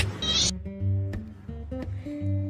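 A cat meows among a cheerful children's-song backdrop, with a few short mews rising over steady tonal music in a cute pet compilation; the calls are brief and mid-loud, and no one speaks.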